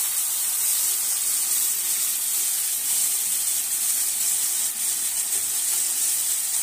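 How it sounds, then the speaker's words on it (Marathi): Onion and tomato sauté with garlic in hot oil for a Maharashtrian stuffed brinjal dish, a steady soft hiss and sizzle that stays even and unbroken throughout, no talking. "त्यातच आता आपल्याला हे कांदा आणि टोमॅटो घालून व्यवस्थित असं परतून घ्यायचं आहे"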